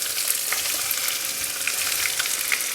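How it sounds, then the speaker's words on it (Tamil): Chopped large onions sizzle steadily in a pan for a chicken coconut curry, a continuous bright frying hiss with a few soft crackles and no talk. "இப்போ வெங்காயம் வதக்கிக்கலாம்."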